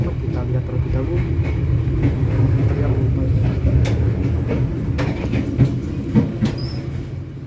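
KA Jayabaya economy train rolling just after leaving Pasar Senen station, heard from inside the carriage as a steady loud rumble with rhythmic wheel clatter and a faint high squeal near the end.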